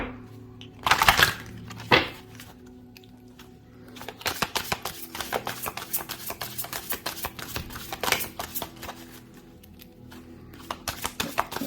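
Bursts of oracle cards being shuffled, a couple of quick riffles followed by a longer run of crisp, rapid flicking and shuffling, close up with no talking.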